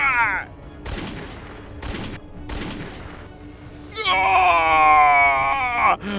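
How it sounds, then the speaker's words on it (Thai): Three sharp gunshots crack in quick succession during a Thai 3D horror ghost story, followed by a loud, wavering cry or scream that holds for about two seconds before cutting off. "ไอ้หวังมึงกล้ายิงกูเชียวหรือ"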